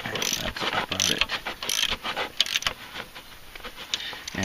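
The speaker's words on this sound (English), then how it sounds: "upper and lower alternator bolts going back in" Upper and lower alternator bolts on a Mercedes W208 engine tightened with a ratchet and 11mm socket, giving a busy run of close, clicking and rattling mechanical strokes throughout.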